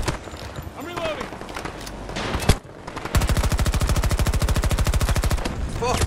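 Rapid automatic gunfire in the video game Battlefield 2042, scattered shots at first, then a long, loud, steady burst of machine-gun fire with talk heard underneath.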